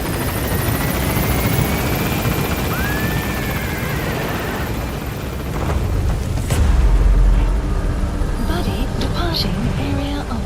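A military helicopter in Metal Gear Solid V lifts off with a loud, steady rotor roar that builds and swells as it gains altitude, with a low rumble rising midway and radio chatter over it.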